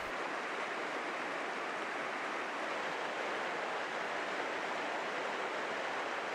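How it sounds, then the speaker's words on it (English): Steady rushing water where the South and North Forks meet to form Cascade Creek in Wyoming's Teton Mountains, an even broadband roar with no breaks and no voices. "This is where the South Fork at the top meets the North Fork to form Cascade Creek."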